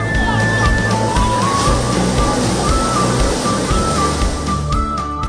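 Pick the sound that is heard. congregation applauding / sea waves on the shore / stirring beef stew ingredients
sea waves on the shore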